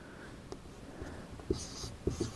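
Writing on a board during a chemistry lesson on naming coordination compounds: faint, close scratchy strokes with a few sharp taps as the writing tool meets the surface, in an otherwise quiet room.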